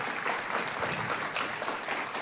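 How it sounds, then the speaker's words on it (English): Brief burst of dense indoor audience applause for author Mark Warren at a Booth Museum lunch talk, even and steady throughout with no voices over it. "Let's give a round of applause to Mr. Mark Warren."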